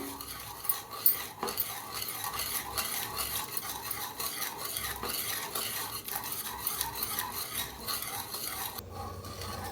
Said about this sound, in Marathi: अर्धी वाटी बेसन पीठ घेतलेलं आहे ते ह्याच्यात ओतूया छान असं मिक्स करूया